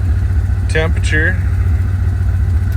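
A Plymouth Road Runner with Aces EFI settles into idle after warming up, giving a steady low engine drone. A brief voice-like sound rises over it for a moment.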